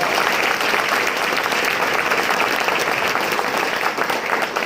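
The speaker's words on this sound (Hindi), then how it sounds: "सबके लिए एक बार जोरदार ताली अपने दिल से होना चाहिए" Steady, dense applause from a large audience at a network marketing event, continuous clapping held at an even level from start to finish with no talk over it.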